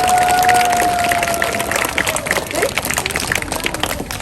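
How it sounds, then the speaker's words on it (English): Sustained applause and clapping from a school assembly audience in an elementary school gathering, a dense crowd sound that stays steady and fairly loud, with a faint tone in the background early on. "let's give another round of applause to the kindergartners who were totally awesome"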